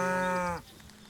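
A cow on a grass-fed beef farm in Allegheny County lets out a single loud, drawn-out moo that is close by and heard alone, then falls away into quiet pasture ambience.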